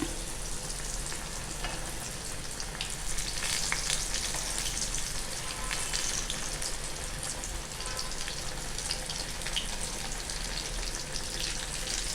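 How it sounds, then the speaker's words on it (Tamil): Elephant foot yam and fish fry in hot oil with a loud, dense, unbroken sizzle and crackle close up, with no voices. "இது நல்லா பொரிஞ்சிருச்சு."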